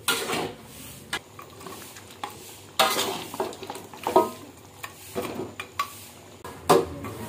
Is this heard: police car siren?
no